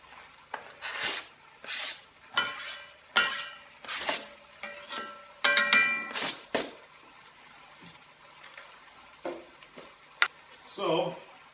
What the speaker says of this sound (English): you want to get these onions to cook down